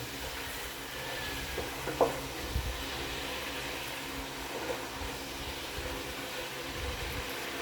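Brown sugar being stirred into sweet and sour pork sauce in a pan, a quiet low bubbling sizzle with a couple of soft utensil knocks, faint and steady.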